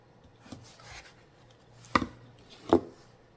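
A very sharp knife thinly slicing chicken for stir fry, a few soft separate cuts that end in two distinct thuds on the cutting board, close and quiet.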